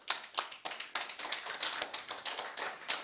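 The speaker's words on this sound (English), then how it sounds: "let's give them a little round of applause" A small audience at a Thursday Night Live event gives a brief round of applause: irregular, fairly close hand claps from a few people, tapping along unevenly for about three seconds without talk.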